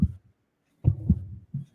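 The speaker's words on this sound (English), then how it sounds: "Don't you get tense when the heartbeat goes up?" Heartbeat sound effect during a live raffle draw, a few deep, muffled low thumps in quick pairs with short silent gaps between them, close and alone.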